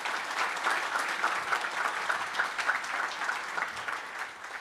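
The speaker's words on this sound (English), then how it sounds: "please give them a round of applause." Sustained audience applause at a security policy forum panel, even and moderately loud, filling the whole stretch with only faint crowd murmur beneath.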